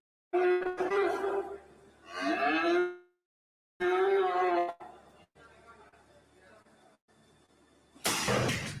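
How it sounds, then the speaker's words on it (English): A young beef steer moos several times, with long, loud, strained bellows separated by short pauses, then quieter background noise and a burst of harsh noise at the end. "a young beef steer pleads for his life"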